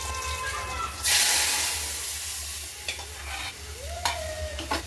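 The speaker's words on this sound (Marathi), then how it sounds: "कढीपत्ता चांगला तडतडला त्याच्यामध्ये" Curry leaves and chilli pieces crackling in hot oil for a kadhi tempering, a constant sizzle that surges into a loud hissing burst, then scattered pops and stirring sounds over a low hum.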